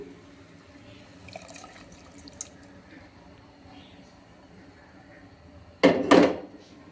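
Golden fried onion and chopped garlic tipped into a pot of thin chana dal, a brief loud sizzling splash near the end after quiet kitchen ambience.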